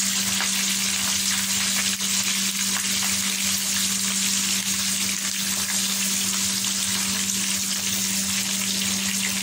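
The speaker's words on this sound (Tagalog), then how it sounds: "Lagay tayo ulit for second batch." Danggit (safi) fish fry in hot oil as a second batch goes in, giving a steady, loud, dense sizzle with a constant hum underneath throughout, and no voices.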